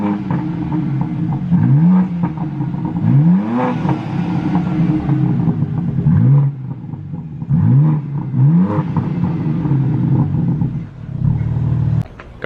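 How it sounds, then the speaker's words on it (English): Stock-exhaust 2024 BMW G80 M3 with an IRL valve controller, revved repeatedly in several rising bursts that settle back to a deep idle with burbles, loud and close, no talking. "I'm gonna do a couple more revs because that thing is addicting."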